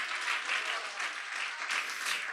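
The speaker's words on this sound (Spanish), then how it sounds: "Vamos, dale palmas de alabanza al Señor." A church congregation claps steadily in praise at a worship service, a dense continuous wash of many hands with gentle swells, close and loud, no voices over it.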